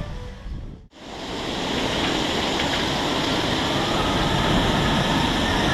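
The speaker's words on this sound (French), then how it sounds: "Bon, il pleut toujours, mais un petit peu moins." A steady, dense hiss of heavy rain at the Parc Astérix amusement park fills the scene after a brief dip, constant and loud throughout.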